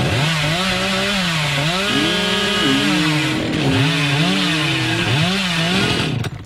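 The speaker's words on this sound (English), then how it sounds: "As a hillbilly, you want to constantly use your chainsaw to gather speed and distance." The Hillbilly's chainsaw in the video game Dead by Daylight revs loudly and continuously, its motor pitch rising and falling in repeated surges before cutting off abruptly at the end.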